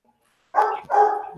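A dog gives two loud, close barks in quick succession in a quiet room, each a short sharp burst, with no talking.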